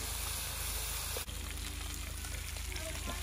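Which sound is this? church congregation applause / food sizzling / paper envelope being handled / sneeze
food sizzling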